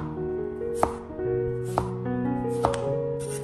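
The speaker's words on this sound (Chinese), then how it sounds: "接下来我们把南瓜切成薄一点的厚片，大概5毫米厚就可以" A knife cuts pumpkin into thin slices about 5 mm thick, giving three sharp, separate chops against a board over a steady low background hum, close and moderately loud.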